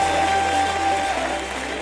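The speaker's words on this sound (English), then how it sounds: "Rakan Khalifa, give him a round of applause." An audience at a sales recruiting seminar applauds a speaker, producing a steady wash of clapping from many hands that holds evenly for about two seconds.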